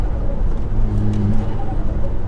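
A 420bhp VW Golf GTI Edition 30 pulls hard in fourth gear, a loud, close engine note with a rising tone that holds steady for a couple of seconds.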